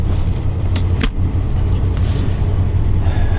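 A flood-damaged RAM 1500 pickup's engine runs rough and close, a loud continuous low rumble with a few faint clicks and rattles over the top.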